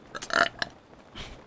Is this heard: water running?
no